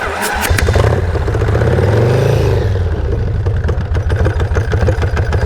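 Engine with decompression fittings on both heads is cranked and fires into a loud, lumpy idle, a close, steady mechanical rumble that runs continuously to the end.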